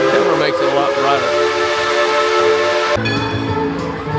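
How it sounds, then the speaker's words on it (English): Steam whistle of the Dollywood train during Smoky Mountain Christmas, a loud continuous chord-like blast that shifts pitch partway through and carries over background park noise. "I swear they throw that train whistle off at some of the most inappropriate areas."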